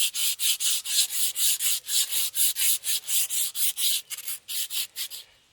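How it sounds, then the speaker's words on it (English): Emery cloth rubs back and forth on a John Deere snowblower shaft in quick, even strokes, about three per second, a close, dry rasping scrape that fades after several seconds. "Now we'll take some Emery cloth."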